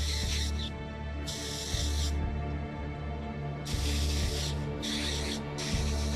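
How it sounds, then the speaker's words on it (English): Aerosol spray can hissing in repeated bursts of about a second each, applying a Games Workshop Boltgun Metal–style metallic paint over a Necron warrior miniature, with a steady low hum between sprays. "So we are going to spray the color similar to"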